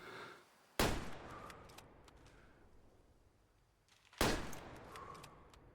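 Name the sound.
rifle shots at a deer in video game Way of the Hunter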